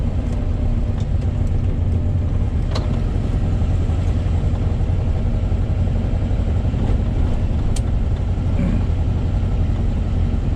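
A 2054 truck engine runs steadily at low speed in third gear, a continuous loud low rumble with no hiccups, heard from inside the cab with no talking.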